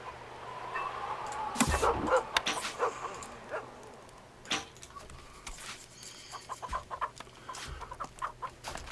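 Chickens in the medieval strategy game Stronghold cluck in short bursts over a low ambient hum, with a louder flurry of squawks near the start.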